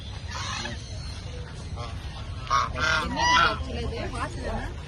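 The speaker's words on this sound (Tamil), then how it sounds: "வாத்துல இது ஒரு வெரைட்டி" Several ducks quack and honk in short bursts, loudest in the middle, over a low background rumble with voices nearby.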